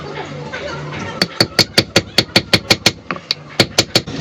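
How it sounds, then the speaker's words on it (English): A hammer striking a metal piece to flatten it, a rapid series of sharp, ringing blows at a steady rhythm, a brief pause, then a few more strikes, up close over faint background noise. "A person is hammering a metal piece and it is getting flattened"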